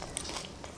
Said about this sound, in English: Had to take another bite, didn't I?